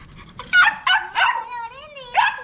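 Someone's dog barks up close in a quick string of sharp, whiny yips and barks, with a drawn-out whimpering whine between them.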